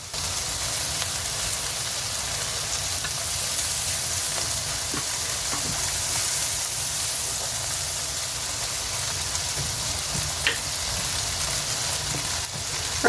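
Hamburger patties of ground beef fry in a pan, making a steady, even sizzle that carries on unbroken, with a few soft clicks and no talking.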